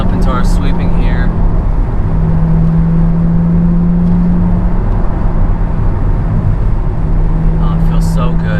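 Chevrolet C8 Corvette with the 495 hp engine, accelerating through its gears on a sweeping road, a steady engine drone rising in pitch between shifts, loud and close inside the cabin.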